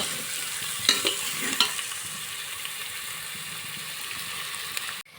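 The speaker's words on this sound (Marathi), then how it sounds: "मी आता तेला जरा भाजून देते" A chutney, salt and spice mixture roasts in oil in a used pot, making a continuous hissing sizzle with a few sharp scraping stirs near the start and a clunk at the very end.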